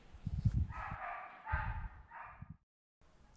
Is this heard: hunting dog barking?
yes